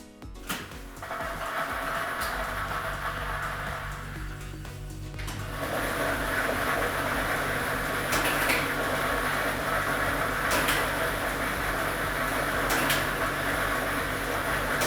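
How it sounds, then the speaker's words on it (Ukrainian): A state lottery drawing machine switches on and churns its numbered balls, a steady mechanical whir with light rattling of tumbling balls that grows fuller partway through. "І ми вмикаємо лототрон."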